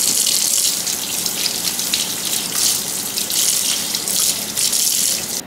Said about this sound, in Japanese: それでは軽く洗ってもらっていただいて、鱗がついているので